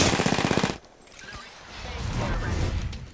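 Rapid automatic gunfire crackles in a video game battle, dense and loud for under a second, then breaks off into quieter battlefield rumble and scattered effects.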